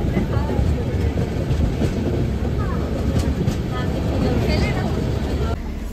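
A passenger train on a journey rumbles along with a constant, loud roar and a faint rattle from the carriage, continuing steadily with no clear words.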